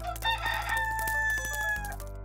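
A cartoon chicken gives one bright, rising crow that trails off, short and clear over a steady low hum.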